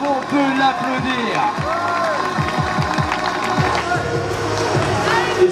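A crowd cheers and applauds an athlete at a national calisthenics championship, voices shouting and whooping over clapping in a lively, noisy hall.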